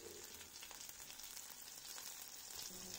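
Shallots, green chillies and curry leaves sauté in hot oil for a Kerala milk tapioca dish, giving a steady, close, continuous sizzle and crackle with no talking.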